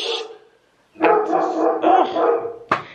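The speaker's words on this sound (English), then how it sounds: "This dog is not going to let you guys hear." A dog barks loudly and close by in a home, a single sharp bark followed by a longer run of excited barking and whining, then one more short bark at the end.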